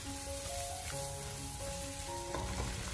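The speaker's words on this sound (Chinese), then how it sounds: "然后再继续的给它简单的翻炒几下，把它翻炒均匀，把葱段给它翻炒成熟" Potato slices and scallion pieces sizzle and fry steadily in a pan for dry-pot spiced potatoes, a continuous close hiss with faint stirring scrapes underneath.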